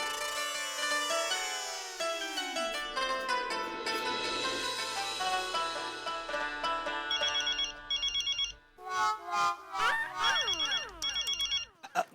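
Mobile phone ringtone playing a bright, melodic electronic tune that repeats in phrases for several seconds, loud and alone with no talking.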